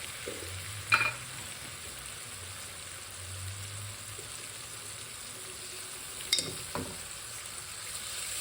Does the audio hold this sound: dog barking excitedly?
no